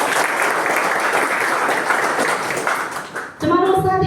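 An audience in a hall at a business motivational event bursts into loud, sustained clapping for about three seconds, then the applause cuts off and a voice begins speaking.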